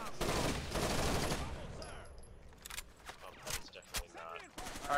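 Gunfire in a first-person shooter game, a dense burst of rapid shots loud at first, then scattered single shots and short bursts that fade somewhat under faint voices.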